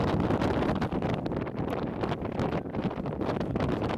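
Strong wind blowing across a Sunday league football pitch, loud gusty buffeting on the microphone with a dense rushing roar that swells and dips, no voices.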